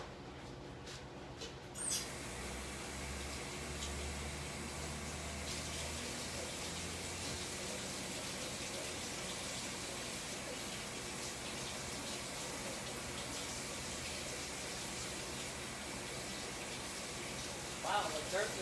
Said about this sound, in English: Let me just rinse them real quick.